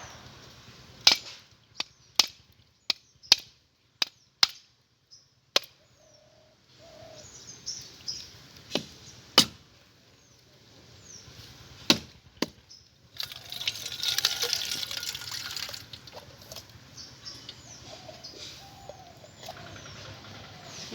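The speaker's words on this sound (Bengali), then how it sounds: "নারকেল দুটোকে আমি ফাটিয়ে নেব।" Two coconuts are cracked open for a Bengali puli pitha recipe, with about ten sharp, loud, close knocks in a steady run, followed by quieter handling noises and a stretch of hissy rustling.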